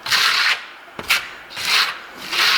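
A steel trowel held almost flat slides over lime-based Venetian marmorino plaster, giving close, dry, rasping strokes in a rhythmic series of four or five passes with short pauses between, heard alone.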